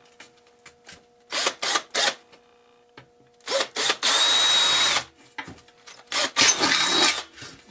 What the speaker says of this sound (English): So I'm just going to carefully drill these out.